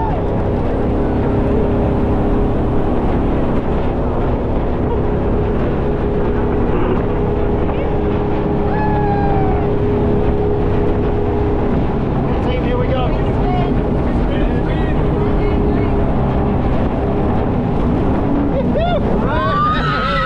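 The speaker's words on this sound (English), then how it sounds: "It's a Skipper's jet boat." A jet boat speeds through Skipper's Canyon near Queenstown, a constant loud engine roar and rushing water with wind buffeting the microphone throughout.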